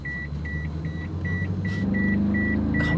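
A car's passenger-seat sensor warning beeps in a steady rhythm, about eight short, even, high tones repeating clearly over a constant low engine and cabin rumble.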